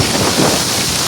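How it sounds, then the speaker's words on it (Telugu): Heavy rain pours down in the hills near a cave in Araku, a steady, loud, dense hiss with no breaks and no voices. "ఇక్కడ అయితే వర్షం అయితే స్టార్ట్ అయిపోయింది"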